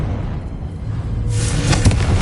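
A Confringo blasting spell bursts in Hogwarts Legacy on PS5, a broad loud blast rising about halfway through over a low rumbling game background.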